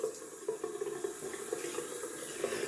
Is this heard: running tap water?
yes